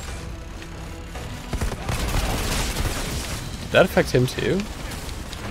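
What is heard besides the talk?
enemy grenade explosion in video game Outriders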